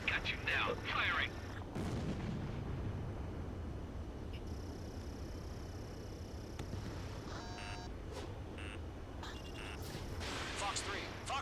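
Missile launch in the Ace Combat 7 flight game: a rushing whoosh of the missile firing under steady jet engine roar, with radio chatter and lock-on warning tones around it.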